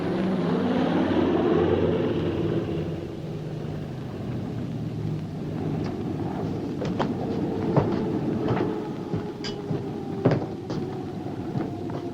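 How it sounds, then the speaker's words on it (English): A coastal patrol seaplane drones overhead, a steady engine rumble that swells early and then holds, with sharp clanks and knocks over it on board a ship. "Patrol plane, probably."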